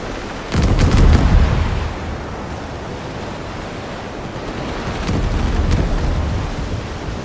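Pirate ship cannons fire in the naval video game World of Sea Battle, deep booming shots in two bursts over a steady rush of ocean waves and wind.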